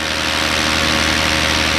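A paramotor engine drones loud and steady in flight with a chipped propeller, giving a continuous buzzing roar with a faint rough vibration throughout and no voices.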